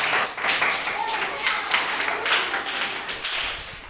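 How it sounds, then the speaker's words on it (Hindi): Children in a classroom clap loudly together during a number-counting activity, a dense, steady patter of many small hands filling about four seconds, with some voices mixed in. "ताली बजाइए जोर से"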